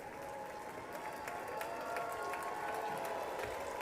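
Crowd at the State of the Union applauding and cheering, a continuous distant roar of many hands clapping with rising cheers, heard faintly as if through a broadcast.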